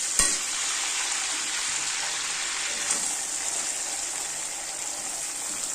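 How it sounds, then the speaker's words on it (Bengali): Chopped onions fry in hot oil with a steady, dense sizzle that stays loud and close and even in level, with no talking. "পেঁয়াজটাকে লাল লাল করে ভাজা ভাজা করবো"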